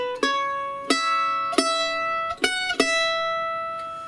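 Mandolin picking a phrase of Oh! Susanna, about six bright, sharply plucked notes with ringing sustain at an unhurried pace, close and alone with no voices.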